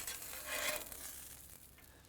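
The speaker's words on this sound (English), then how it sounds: "Cooked on the griddle." Asparagus sizzling on a barbecue griddle outdoors, a steady hissing crackle at moderate, close level, briefly swelling then easing off, with no voices.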